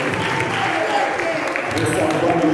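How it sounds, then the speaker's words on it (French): Audience applause at a slam poetry event, steady dense clapping filling the room at a consistent level throughout. "Applaudissez la parole."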